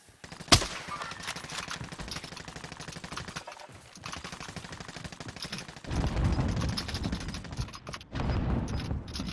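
A sharp shot opens, then rapid, rattling gunfire in an online battle-royale video game runs in close repeated bursts, growing louder near the end.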